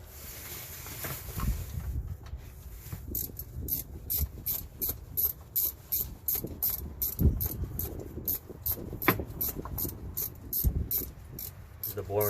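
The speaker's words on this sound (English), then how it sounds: "Nothing like hearing somebody turning a ratchet." A hand ratchet rapidly clicks while turning bolts on the belt tensioner of a 2013 Chevy Suburban 1500 5.3, with close, rhythmic bursts of ratcheting repeated through the clip, alone and fairly quiet.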